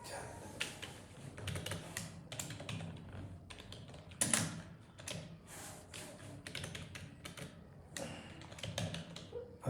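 Rapid keystrokes clatter on a computer keyboard at a desk in cold weather. The close, uneven typing runs in bursts with short pauses and one louder clack partway through.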